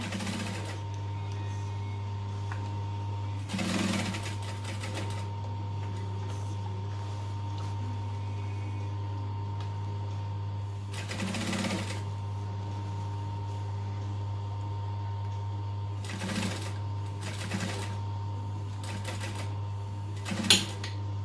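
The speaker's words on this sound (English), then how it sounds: "Make sure you back stitch and then chop off the excess thread." A sewing machine stitching a bag with backstitching, heard as short bursts of rapid mechanical stitching spread through the clip over a constant low electrical hum.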